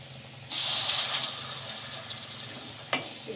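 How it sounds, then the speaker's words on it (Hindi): Tomato puree hits hot frying masala in a pan for restaurant-style matar paneer, setting off a loud sudden sizzle that hisses steadily and then fades, with a brief sharp clatter near the end. "अब हम इसमें डालेंगे टमाटर की प्यूरी।"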